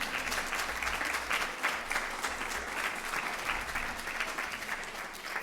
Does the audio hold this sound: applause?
yes